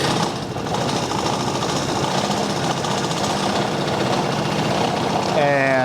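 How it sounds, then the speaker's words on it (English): A 2023 Vespa GTS HPE scooter engine runs steadily and fairly loud after starting, a continuous mechanical drone with a faint rattle, ending in a brief higher whine. "And we're going to go ahead and start the motor."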